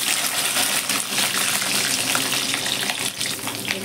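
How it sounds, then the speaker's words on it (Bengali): Turmeric-and-salt-coated prawns frying in hot oil, a loud, dense, continuous sizzle close by with a faint rushing quality throughout. "এরকমগুলো ভেজে উঠিয়ে নিই।"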